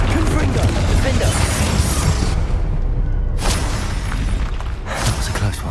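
A Confringo fire spell bursts in a Hogwarts Legacy battle with loud, shattering, crashing impacts and whooshes over continuous dense combat noise. A brief quiet gap comes partway through, and a voice is heard among the clatter.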